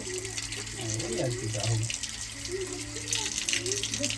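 Running tap water splashes steadily into a sink as fish is rinsed and cleaned by hand, with faint voices underneath the continuous flow.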